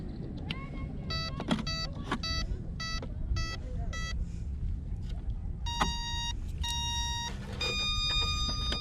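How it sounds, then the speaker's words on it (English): Several short electronic beeps from a Traxxas Spartan RC boat in quick bursts, then longer sustained tones toward the end, over a low background hum. "Do those beeps mean that it's okay?"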